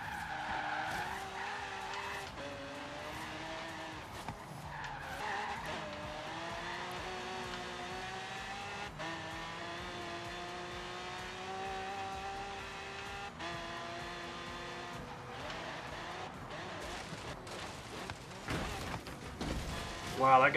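Racing car engine in Forza Horizon 3, a rebuilt Mustang driven on sand, drones steadily with shifting harmonic pitch, skids and tire squeal flaring near the end.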